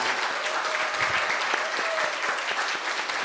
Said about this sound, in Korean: 크게 我 박수로 们用大声的 환영하겠습니다.